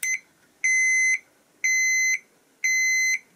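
A restored Soviet Elektronika 6.15M alarm clock gives a steady, clean electronic beep, repeating in even half-second tones about once per second, close and clear with no talk.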